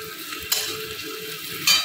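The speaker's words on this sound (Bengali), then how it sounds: "পেঁয়াজটা দিয়ে একটু ভাজা করছি আপাতত" Onions frying in a pan in a home kitchen during a meal of egg curry and cauliflower-potato curry, giving a steady soft sizzle with a couple of sharp metallic clinks from a stirring utensil.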